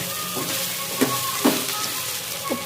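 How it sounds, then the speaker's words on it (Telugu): Okra fries in a pan and sizzles continuously while a utensil stirs it, with a few soft scraping knocks breaking through the steady crackle. "ఇప్పుడు ఒకసారి బెండకాయలు కలిపేసుకొని"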